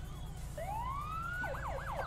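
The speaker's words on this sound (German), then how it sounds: "Alte Sirene." A police car siren in the FivePD video game rises in a long wail, then switches to a fast yelping warble over a low engine rumble, loud and near.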